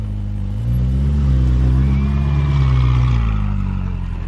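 A supercar engine idles with a deep, steady rumble, then rises into a sustained rev before easing back, loud and close, with faint voices in the background.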